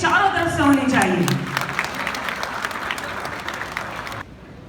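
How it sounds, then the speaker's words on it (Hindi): Audience applause at a live Shark Tank India event in Kota, loud clapping that opens under an amplified voice and continues steadily before cutting off abruptly near the end. "फिर जोरदार तालियां प्लीज चारों तरफ से होनी चाहिए।"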